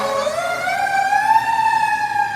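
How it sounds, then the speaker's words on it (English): A fire truck siren wails loud and close in one long rising and falling tone, sounding alone on a city street. "I love a good fire truck."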